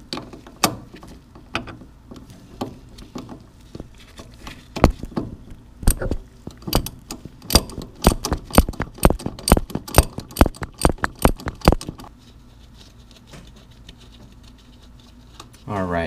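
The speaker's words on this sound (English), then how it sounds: "I'm going to loosen the set screw right in here" Wrench ratcheting on the set screw of a 1966 Ford Mustang steering rag joint, a quick run of sharp metallic clicks that speeds up in the middle, then stops, with someone talking around it.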